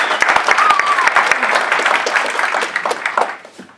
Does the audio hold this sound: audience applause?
yes